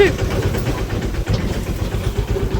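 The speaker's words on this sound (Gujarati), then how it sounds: "ટ્રેક્ટર ભરીને આવી ગયા છે અત્યારે" A tractor idles after bringing a load of cattle fodder to a village farm, a steady low rhythmic chugging close by, with people talking over it.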